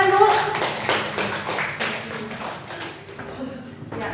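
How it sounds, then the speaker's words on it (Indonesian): Clapping in a classroom, a few hands making a loose series of claps that fade out, with a voice talking over them. "tepuk tangan Bu."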